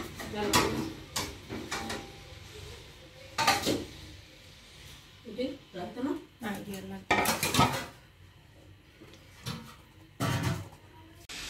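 Dishes, pots and cutlery clatter in a kitchen while cauliflower egg curry is served, with a series of sharp metallic clinks and knocks at irregular intervals and a voice talking between them.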